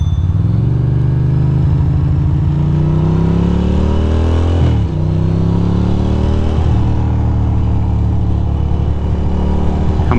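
A Ducati motorcycle engine cruising on a highway from the Tappan Zee Bridge onto 87 South, droning steadily and loud up close with rising pitch sweeps as the rider shifts through gears, plus constant wind rush.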